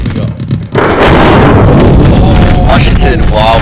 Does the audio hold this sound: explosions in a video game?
yes